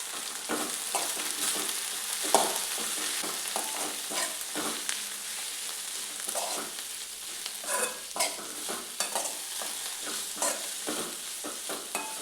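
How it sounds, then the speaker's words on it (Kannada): Mint leaves, coriander and onion frying in a pan with a steady sizzle, while a spoon stirs and scrapes through them in repeated irregular strokes, close and continuous. "ಇದಿಷ್ಟು ಚೆನ್ನಾಗಿ ಫ್ರೈ ಆದರೆ ಒಂದು 2 ನಿಮಿಷ ಸಾಕಾಗುತ್ತೆ ಫ್ರೈ ಮಾಡೋದು"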